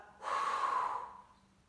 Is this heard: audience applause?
no